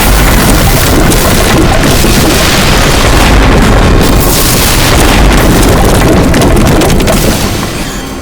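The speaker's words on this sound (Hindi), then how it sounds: "ये लगाया मैंने दया सर को फोन और ये हुआ धमाका।" A bomb explosion in a TV crime drama roars as a loud, dense, sustained blast of rumbling noise that fills the scene and fades slightly at the end.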